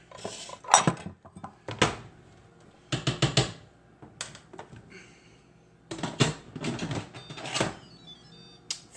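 Clattering metal and clinking of a quick cooker lid being handled and set in place, several sharp bursts separated by short pauses.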